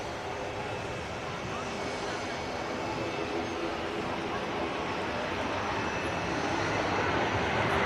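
A passing easyJet airliner fills the air with a steady, broad jet-engine roar that stays loud and even throughout, heard outdoors from a plane-spotting spot.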